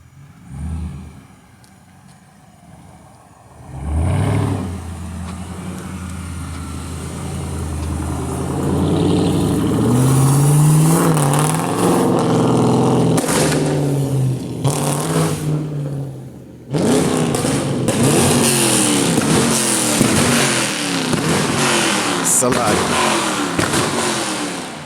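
A car engine, said to have nitrous (NOS) fitted, revs hard and accelerates close by in a long run of loud, rising and falling engine noise, with people talking over it.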